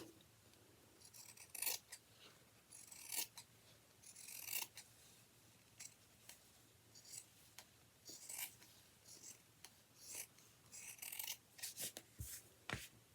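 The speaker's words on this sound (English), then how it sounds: "now I'm going to cut this excess off" Scissors snip through flannel fabric, trimming away excess for a holiday gnome and tree craft; a quiet series of separate crisp cuts and rasping blade strokes, close up and alone.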